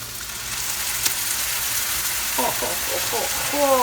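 Tomatoes added to onions in a frying pan for a Georgian tomato sauce: a steady, close hiss of sizzling oil that fills the whole stretch, growing slightly louder toward the end.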